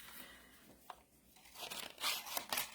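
Paper being snipped and handled while making a Wedgwood-inspired corner pocket bookmark: faint rustles, then a few crisp, close cutting and crinkling bursts near the end.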